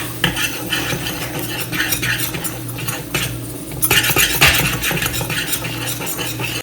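Flour and a little pasta are stirred into melted butter in a pan, with a steady clatter of the spoon against metal and a continuous soft sizzle as they roast, close and fairly loud throughout.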